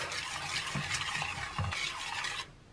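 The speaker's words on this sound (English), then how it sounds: "And we'll just give that a stir in to dissolve." A spoon stirs sweetener such as sugar or stevia into mixed berry jam, giving soft scraping and knocking sounds against the pot at an even pace that stops near the end.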